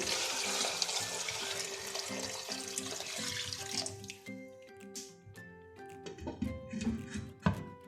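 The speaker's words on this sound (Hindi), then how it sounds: "अब गोश्त को गलाने के लिए इसमें मैं 2 लीटर पानी ऐड करूंगी।" Water pouring into a pot of camel-meat nihari in a home kitchen, a steady splashing stream in the first half that thins into scattered drips and clinks over faint background music.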